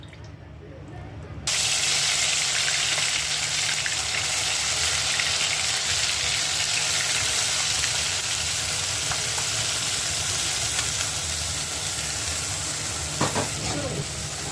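Masala paste for a bangada (mackerel) curry hits hot oil in a kadhai and erupts into a loud, steady sizzle after a brief quiet moment, crackling on without pause close by.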